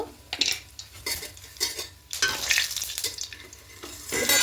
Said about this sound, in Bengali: এবার এই তেলের মধ্যে দেব গোটা গরম মশলা, দারুচিনি, এলাচ, লবঙ্গ।